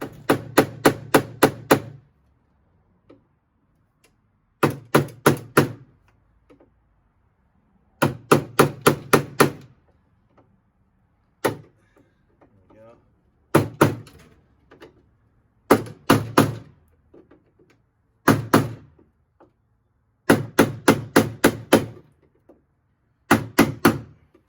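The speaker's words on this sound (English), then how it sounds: "let's get my hammer and chisel" A hammer drives a chisel against rivets on a Mercedes-Benz ML W163 window regulator, in quick bursts of four to six sharp metallic blows separated by pauses, close and loud, with no talking.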